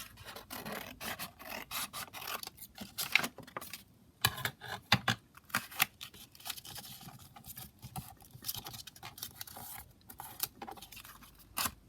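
Scissors cut around a piece of blue fabric with close, irregular snips and rustles, some in quick bursts and others spaced out.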